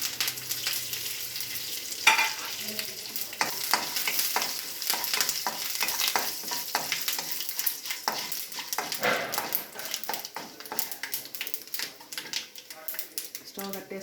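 Dry red chillies and curry leaves sizzle and crackle in hot oil as a tempering for bottle gourd chutney, a loud continuous fry with stirring clatter and a voice speaking over it.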